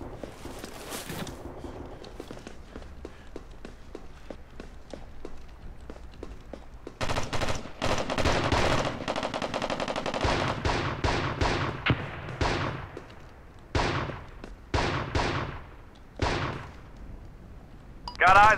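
Gunfire in the military shooter game America's Army: Proving Grounds: sparse single shots early, then dense bursts of rapid automatic fire with sharp repeated cracks, fairly loud and alone.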